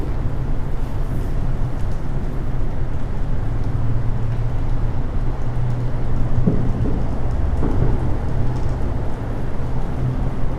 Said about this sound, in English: As the rain starts to pick up.